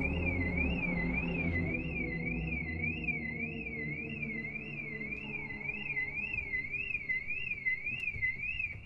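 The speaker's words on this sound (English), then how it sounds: "Daphne, can you turn that alarm off?" An electronic alarm warbles continuously in a fast, even up-and-down pulse, steady and moderately loud over a low rumble, with no talk.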